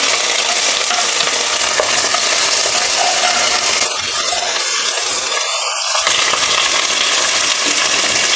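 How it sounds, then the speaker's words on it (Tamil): Green chillies and garlic fry in hot oil in a home kitchen pan, a steady loud sizzle running throughout with a few brief stirring scrapes near the middle; no one talks. "பச்சை மிளகா, பூண்டு வந்து எண்ணெயில் போட்டுடலாம்"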